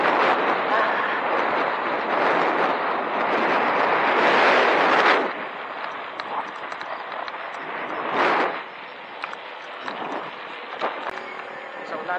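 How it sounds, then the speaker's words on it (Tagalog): Strong wind buffeting a microphone outdoors at an adventure camp, a loud rushing roar for several seconds that drops away, then surges briefly again, with people talking faintly. "Presto, presto ang hangin dito."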